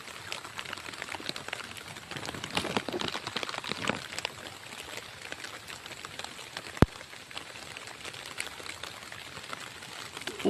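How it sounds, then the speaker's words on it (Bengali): Rain falls on a pond in a steady, dense patter of drops, with one sharp louder splash or knock partway through. "এখন বৃষ্টিতে আমি যেতে পারছি না।"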